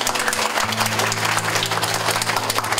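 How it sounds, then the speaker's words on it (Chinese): An audience at a Keelung temple donation event applauds with dense, steady clapping while a low tonal hum drones beneath it. "可以先给他们一个掌声啊！"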